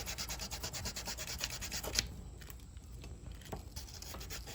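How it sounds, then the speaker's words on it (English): Sandpaper rubs against the inside curve of a handmade backwoods knife blade in quick, rhythmic back-and-forth strokes, close and steady, then eases into softer, lighter rubbing. "sand up against the inside of it right here. Slick that up a little bit."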